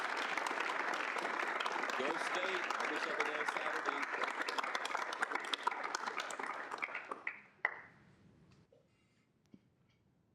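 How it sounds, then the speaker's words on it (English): Audience applause for a guest speaker at a student senate meeting, steady and dense clapping that fades out near the end, with speech over it. "if you all want to give Dr. Franklin a big round of applause"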